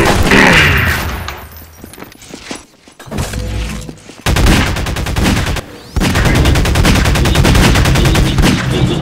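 Rapid bursts of gunfire from a Half-Life 2 Deathmatch capture-the-flag match, loud and dense, with short gaps between volleys of automatic fire and single shots.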